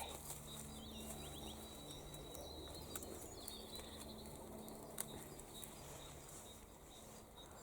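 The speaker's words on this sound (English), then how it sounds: "And you can hear the birds." Outdoor ambience in a kitchen garden with birds calling and chirping, a few sharp chirps standing out over a steady low hum of background noise.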